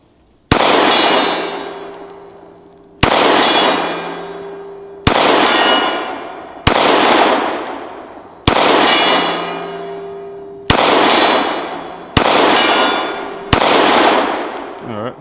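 Glock Gen5 pistol shots strike a steel gong, eight sharp loud reports each followed by a long bright metallic ring that decays, spaced roughly every one to two seconds.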